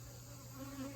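Robber bees swarming out of a smoked hive, a close, continuous insect buzz with a steady drone and shifting pitch.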